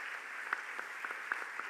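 Audience applause in a hall at a literature festival, a steady, fairly quiet wash of clapping with a few sharper individual claps standing out.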